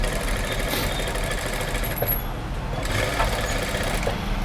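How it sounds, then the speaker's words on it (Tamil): A sewing machine runs continuously while stitching thread piping onto a blouse, a steady close mechanical whir with a rapid needle rhythm and a few faint clicks, no voices. "இந்த மாதிரி நல்லா எட்ஜில் நல்லா ஒட்டி தையல் போட்டிங்கன்னா மட்டும்தான் கரெக்டாக வரும்"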